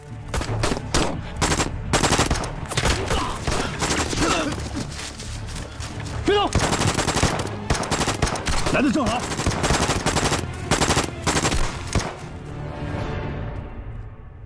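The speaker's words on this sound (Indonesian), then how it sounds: "aksi baku tembak pun gak bisa dihindarkan" Film gunfight with dense, rapid machine-gun bursts and scattered gunshots, loud and nearly continuous throughout, trailing off near the end.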